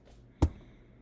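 A single sharp mouse click on a deploy button during a WordPress server setup, one brief close tap in otherwise quiet room tone.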